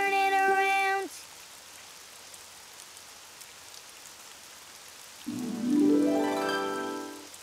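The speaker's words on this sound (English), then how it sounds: "Oh, it's raining outside." Soft steady rainfall patters throughout, bracketed by loud tonal sounds at the start and a rising swooping tone near the end.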